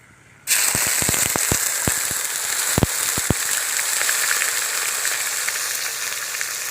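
Onion paste hitting hot oil in a pan with whole garam masala and bay leaf, a few sharp pops and crackles at first, then a steady loud sizzle that stays close and continuous with no voices.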